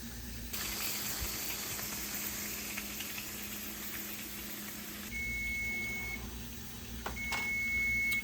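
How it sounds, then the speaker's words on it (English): Electronic kitchen timer beeping beside a pressure canner on a stovetop, cutting in as a steady high tone over the constant hiss and rumble of the canner, with a couple of short repeated beeps near the end. "All right, that's our timer."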